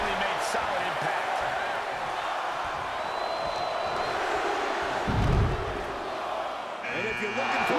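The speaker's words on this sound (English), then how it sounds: "Listen to this crowd." An arena crowd roars during a Royal Rumble match in the WWE 2K23 wrestling video game, a continuous wash of cheering with thuds of in-ring impact and commentary talk over it.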